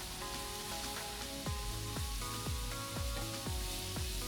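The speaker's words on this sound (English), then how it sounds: "There's just something about it so satisfying cooking with an open flame." Corn cooks over an open flame, giving a steady crackling sizzle with sharp pops and snaps recurring about every half second, close and fairly loud with no talking.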